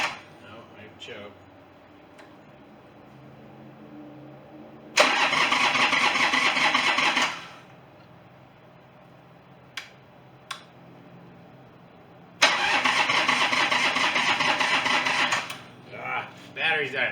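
A crashed Harley motorcycle engine cranks in two long bursts of several seconds each, trying to start, loud and close, with quiet pauses and a few clicks between the attempts.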